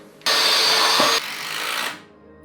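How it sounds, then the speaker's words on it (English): A power drill drives screws to fix wooden blocks onto a length of timber for homemade sash clamps, with one loud sustained whir of about a second followed by a softer, slower run before it stops. "that's where we screw the next blocks to"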